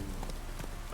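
Heavy rain in The Witcher 3, a dense steady hiss of a downpour with scattered drops hitting surfaces, continuous and close for a second.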